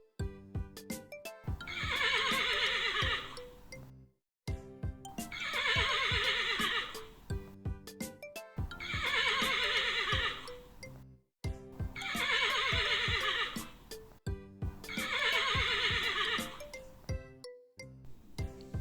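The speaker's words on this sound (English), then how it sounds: "Horse." A horse on a farm neighing, five long shrill whinnies repeated at regular intervals, loud and close, with no talking over them.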